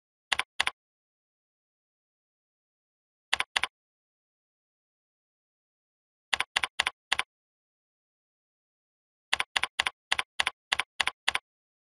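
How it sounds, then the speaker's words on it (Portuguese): Customer information being typed on a computer keyboard: short bursts of crisp keystrokes, two, then two, then four, then a quick run of eight, separated by silence, close and clear with no voices. "digitemos a informação do cliente"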